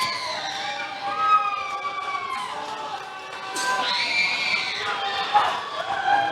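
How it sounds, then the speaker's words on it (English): A football crowd at a Sri Lankan club league match roars and shouts in rising waves, with whistles and high cries over a busy background, while a commentator talks over the noise. "Now the game is stretched. Crowd has come alive."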